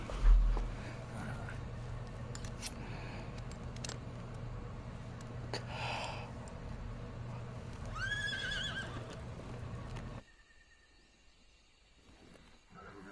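A horse whinnies loudly once in Metal Gear Solid Delta: Snake Eater, a rising and falling call over a steady rumbling ambience, followed by a quieter stretch near the end.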